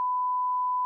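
A single steady censor beep, a pure sine tone lasting just under a second, clean and loud with abrupt start and stop.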